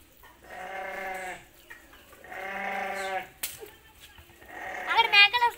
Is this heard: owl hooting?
no